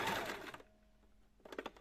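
Sewing machine topstitching burlap fabric, a faint quick buzzing run of stitches, a pause with a low hum, then another short burst of stitching.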